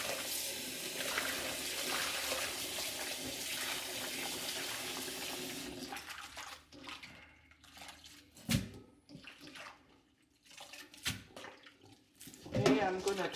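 Tap water runs steadily over salted cabbage being rinsed for kimchi, then gives way to quieter sloshing and splashing as the leaves are handled in the water, close by and moderately soft.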